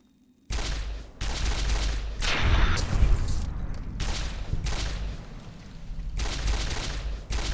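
Recharger rifle energy weapon from Fallout New Vegas firing in a series of loud, sharp bursts spaced about a second apart, with a steady game soundscape underneath and no voices.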